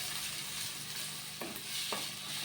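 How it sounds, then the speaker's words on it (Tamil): Steady sizzling of onions frying in a pan, with a couple of soft scraping stirs cutting through the continuous hiss. "வெங்காயம் நல்லா ப்ரௌனிஷ் ஆகிற வரைக்கும் நல்லா வதக்கணும்"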